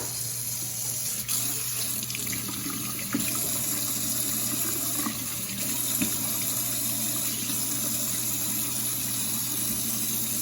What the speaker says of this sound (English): We're gonna fill it with new clean warm water.